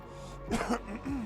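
A single throat-clearing cough from a man pausing while opening a Flesh and Blood card booster box, two short rough bursts close to the microphone in a quiet room.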